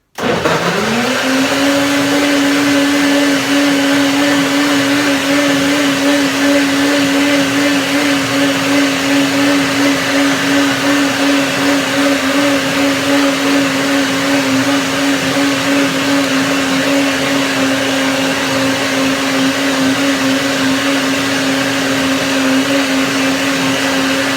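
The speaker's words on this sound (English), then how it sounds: "The kale also needs a little bit longer blending because it is a firm" A blender whirs steadily and loudly for the whole stretch, blending persimmon, kale and almond milk into a smoothie, its motor pitch holding even with no pauses.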